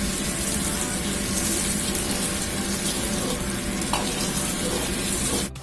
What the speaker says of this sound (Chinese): 下入鸡蛋液， 用勺子慢慢的推动